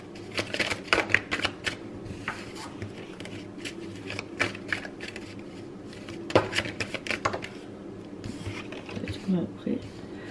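Tarot cards shuffled and handled in rapid, papery bursts with sharp flicks, close and moderately loud, while a person talks throughout.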